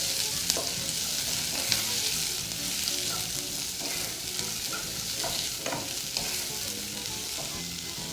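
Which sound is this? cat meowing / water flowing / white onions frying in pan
white onions frying in pan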